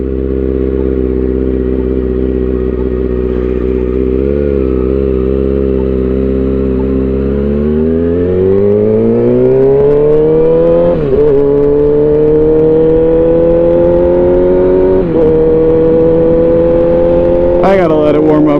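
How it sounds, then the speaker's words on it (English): A Kawasaki Ninja motorcycle engine idles steadily while warming up, then rises in pitch to a higher, faster idle with a few brief revs, loud and close throughout. "Oh yeah, bike's not even warmed up yet."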